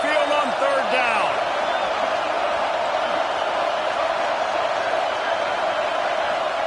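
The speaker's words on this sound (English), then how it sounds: "The Tide crowd rolling noise down onto Saban Field on third down" A roaring Alabama Crimson Tide home crowd at Saban Field builds steady, dense noise on third down during a college football game, with a commentator's voice faintly over the constant roar.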